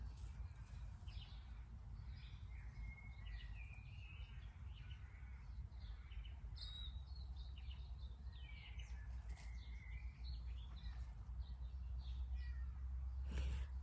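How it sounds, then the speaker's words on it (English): A house cat meows again and again indoors over a steady low background hum, its calls faint to moderate and spread across the whole stretch, with no talking. "My cat Lily has not stopped meowing through the whole video"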